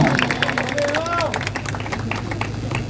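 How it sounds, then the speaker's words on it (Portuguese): Audience applause at a church youth gathering's second anniversary celebration: steady, dense clapping fills the whole stretch, mixed with crowd murmur and voices, fairly loud and close. "Palmas pro Leão,"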